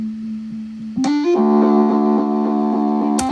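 An electric guitar plays a sustained, effect-heavy tone that rises and then holds, shimmering and layered, with a sharp pluck near the end.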